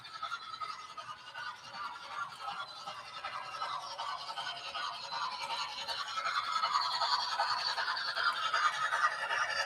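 A Dremel rotary tool running at speed, a thin buzzing whine that wavers and slowly grows louder toward the end, heard fairly close with no talking.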